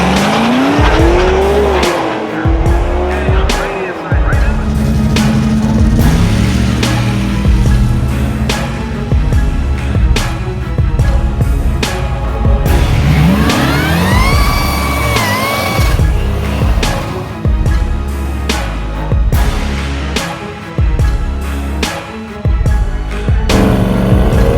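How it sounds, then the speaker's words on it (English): Drag racing cars launch down the lanes on a Michigan strip, engines roaring loud and close with tire squeal, rising revs through gear changes, and several passes overlapping. "Got cars in the lanes ready to make their hits."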